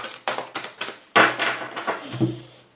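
Tarot cards shuffled by hand, a run of four or five crisp riffling bursts followed by a longer, louder card-shuffling flurry, close and clear with no talking.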